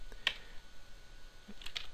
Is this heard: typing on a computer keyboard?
yes